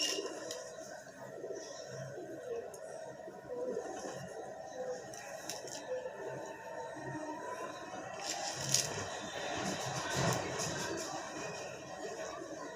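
A pet bird about to be put in a cage, giving soft cooing calls at close range amid low household background noise and faint talk.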